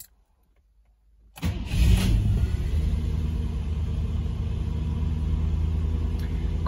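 A Rover SD1 3500 with HIF44e carburettors cold starts outdoors at about 15 °C: near silence, then the engine catches with a quick crank and settles into a steady, even idle rumble with no voices.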